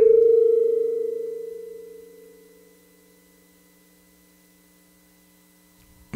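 A synth feedback patch through a Mother 32 filter, clipping a little, sounds as a steady low buzzing drone that fades gradually over a few seconds and then holds quietly, ending with a brief click.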